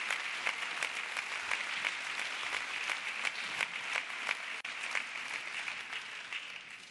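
Sustained audience applause at a peace lecture fills the hall, with steady, dense clapping that continues without a break for several seconds.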